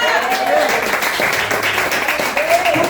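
A church congregation applauds together, producing a steady wash of clapping that lasts throughout, heard over a preacher's continuing speech and the room's ambience.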